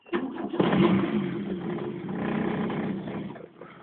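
A Mk2 Vauxhall Astra engine cranks briefly on its first morning start, catches, and settles into a steady, close idle that fades slightly at the end.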